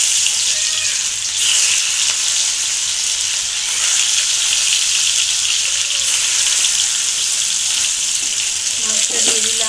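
Fish frying in hot oil in a pan for a fish curry gives a loud, continuous bright sizzle that holds steady throughout, with faint clinks near the end.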